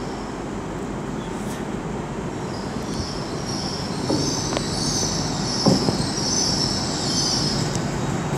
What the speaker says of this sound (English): Terminating Great Western service from London Paddington, worked by an IET.